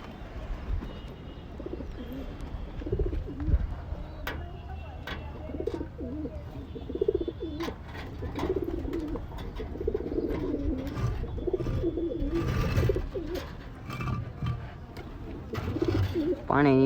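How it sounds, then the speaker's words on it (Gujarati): Pigeons coo repeatedly near a horse stable after rain, soft throaty calls over a low background with occasional bird chirps. "ઓલા કબૂતરી આપણે ખોલ નાખ્યા"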